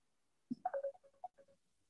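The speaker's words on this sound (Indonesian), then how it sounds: "maaf ada telepon masuk." A phone gives a brief electronic ring or tone burst for an incoming call, a quick cluster of short beeps that is faint and close, with quiet before and after.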